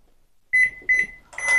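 A Japanese electric rice cooker answers button presses with three clear, high electronic beeps, the first two short and separate, the last longer and brighter, close and loud in a quiet room.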